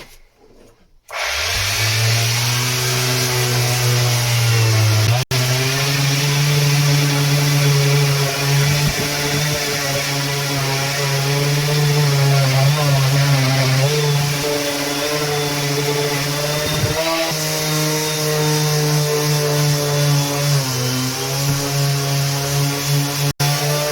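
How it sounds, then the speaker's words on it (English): A power sander works steadily on a boat hull in Shetland, a loud continuous whine with a strong low hum that runs almost without a break for about twenty seconds, with slight shifts in pitch as pressure changes. "Let's get my sander out and get something done."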